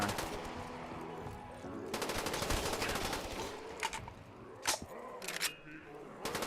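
AK-74U automatic fire in a custom Call of Duty Zombies map: a long, dense burst of rapid shots, then several short sharp bursts, loud and close against steady game background noise.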